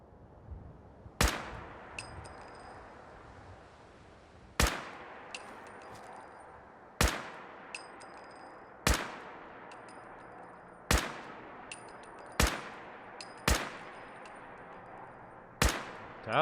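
Single sharp gunshots in the video game Fallout 4, about nine spaced loud cracks, each with a decaying echo tail and a faint metallic ping after some, over a quiet background.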